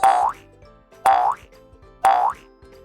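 A cartoon boing for a hopping kangaroo sounds three times, about a second apart. Each is a loud, springy twang that bends upward and then fades.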